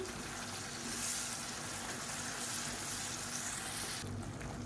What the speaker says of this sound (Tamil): ஒரு மூணு தக்காளி மிக்சியில் அடித்து வச்சுருக்கேன் அதை சேர்த்துக்கலாம் இப்போ இது நல்லா வதங்கட்டும்